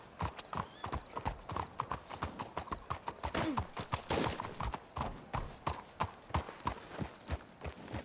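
Horse hooves clip-clop in a steady, even walking rhythm in the video game Red Dead Redemption 2, clear and close, with no talk over them.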